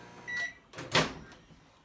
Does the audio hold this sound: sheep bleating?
no